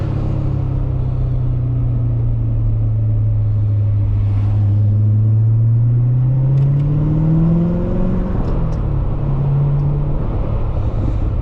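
A 2017 Chevrolet Corvette Z06 with a manual gearbox drones loudly and continuously, its pitch sinking then rising as it accelerates, with road noise underneath and no talking.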